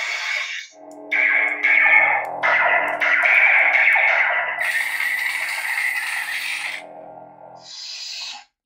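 A KY Lightsabers Jedi Killer saber with dual crystal chambers powering on its blade, a harsh crackling, buzzing electronic rasp rising in bursts, then a steady humming blade tone before cutting out, close and loud.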